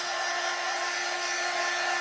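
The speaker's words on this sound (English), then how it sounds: "then I'm gonna take my dryer. You can use a hair dryer." A hair dryer blows steadily onto the wax of a battery-operated candle, giving a constant, loud, close-up whooshing hum with a faint whine and no speech.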